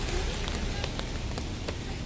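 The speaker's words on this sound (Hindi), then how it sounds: "अभी हम खड़े हैं यहाँ एक पेड़ के नीचे क्योंकि ना बारिश तेज़ हो गई है" Heavy rain pours down steadily beneath a tree, a loud, dense hiss of drops on surfaces with occasional sharper patters.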